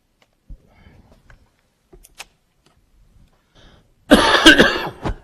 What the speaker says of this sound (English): I'm nursing this dry cough after this cold